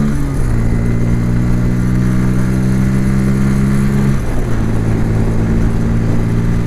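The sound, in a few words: Bajaj Pulsar N160 motorcycle engine accelerating in third gear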